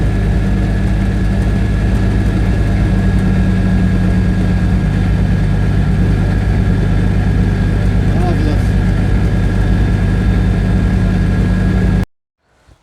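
A car engine runs steadily throughout a drive with a continuous low drone and hum, loud and close, cutting off abruptly near the end.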